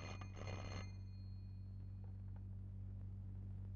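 A telephone rings once at a police station, a short electric bell burst at the start, then stops, leaving a steady low mains hum and room rumble.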